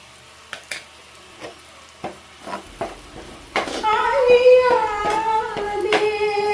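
Prawns with chopped tomato and ground pepper frying in a pan, a few soft stirring taps giving way to a steady close sizzle for the last few seconds.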